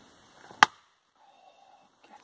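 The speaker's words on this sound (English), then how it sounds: "I have split wood!" A single sharp chop of an axe splitting wood at a Finnish campsite, close and crisp, followed by a quiet pause and faint rustling.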